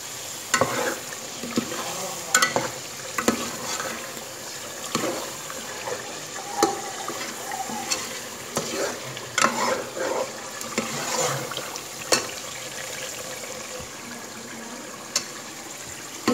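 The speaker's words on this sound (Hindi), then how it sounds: "देखिए गोश्त बन रहा है" Meat cooks for aloo gosht salan in a covered pot, giving a steady, moderately loud sizzle and bubbling with scattered small pops and clicks throughout.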